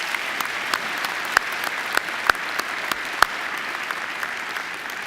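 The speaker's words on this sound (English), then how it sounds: "Please join me in giving her another great round of applause." At a Macquarie University graduation ceremony, a crowd applauds a singer with steady, broad clapping, a few sharper individual claps popping out near the front over the continuous wash.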